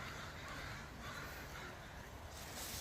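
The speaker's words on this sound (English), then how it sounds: "A lot of birds, a lot of ducks" Crows cawing near a curving wooded trail by water in Port Moody, harsh calls carrying over a steady dense background of wind or water noise, no talking.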